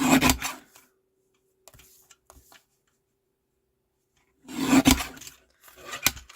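Scissors trim a stamped paper piece for patchwork crafting, two short bursts of close rasping cuts separated by a quiet pause, with a few faint ticks in between.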